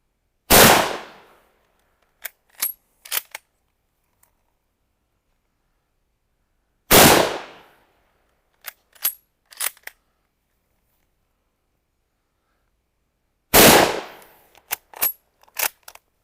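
A Mauser-Vergueiro 1904/39 bolt-action rifle fires three loud, sharp shots at even intervals, each followed by a few quick metallic clacks as the bolt is worked, with near silence in between.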